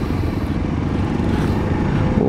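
A Jawa Yezdi Adventure motorcycle is ridden past at close range, its engine making a steady, loud, rumbling drone that holds for the whole stretch.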